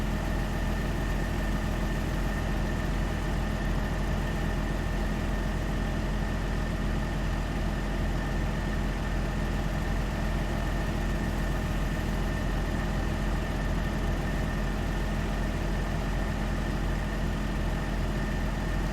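A tractor engine idles in Farming Simulator 25, a steady, unchanging low drone with constant hum throughout, with no talk over it.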